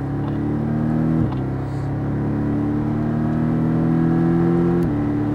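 A Porsche Cayman pulls hard on a race circuit, heard from inside as a loud, steady engine drone that rises in pitch, with two quick gear-change dips along the way.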